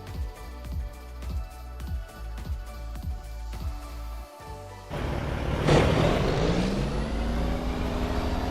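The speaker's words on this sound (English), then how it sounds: "My Jake brake was loud." A truck's Jake brake in Farming Simulator 25 fires as a loud, rapid staccato of regular pulses for several seconds, then pauses briefly before a rising, roaring engine rev takes over.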